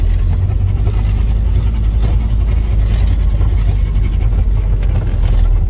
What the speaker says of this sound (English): I'm gonna go do a donut over here.